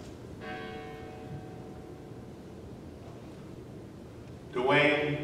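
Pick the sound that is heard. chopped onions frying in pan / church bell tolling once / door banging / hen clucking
church bell tolling once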